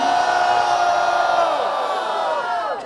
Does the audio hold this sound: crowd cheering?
yes